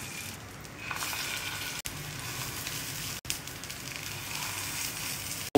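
Potato tikkis fry in oil on a hot griddle, giving a steady, close sizzle and crackle broken by two brief sharp dropouts, with no talking.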